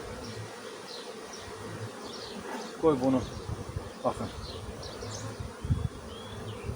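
Honeybees buzz around an opened hive as frames are lifted out during a hive expansion, their high, droning hum constant and close with louder bursts as bees fly near, while someone speaks briefly.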